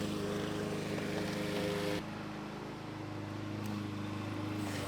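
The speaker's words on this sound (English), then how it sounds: "I went ahead and pulled the fuel fuse so that the Miata can crank non-stop." A Mazda Miata engine cranks continuously on a portable jump starter with its fuel fuse pulled, a steady loud droning whir that runs unbroken throughout, with a slight drop in level partway through.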